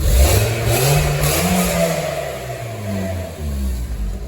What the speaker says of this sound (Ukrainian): А ну-ка погазуй трошки